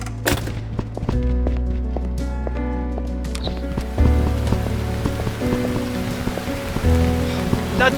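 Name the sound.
rain falling in Burnhouse Lane video game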